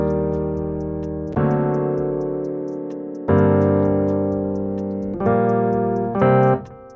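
Layered electric piano chords transposed up an octave in FL Studio, four sustained chord changes ringing in turn with a slow decay between strikes, close and clear with no voices.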